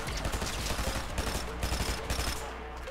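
Tactical assault rifle fire in Fortnite, dense rapid shots rattling continuously at close range with game effects layered underneath, loud throughout with no clear talk.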